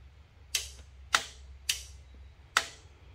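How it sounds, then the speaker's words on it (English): An ATV starter solenoid clicks four times in a steady rhythm, each a sharp, close metallic snap about half a second apart, heard alone over a faint background hum during a four-wheeler rebuild. "Well, we do have a solenoid clicking"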